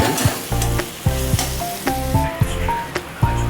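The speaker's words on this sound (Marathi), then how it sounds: "2 मिनटं फक्त फ्राय करायचे मसाले" Whole spices sizzle and fry in a hot kadhai for a Maharashtrian vangi-batata (brinjal and potato) bhaji, with repeated sharp scraping stirs at a steady rhythm over a continuous close, loud crackle.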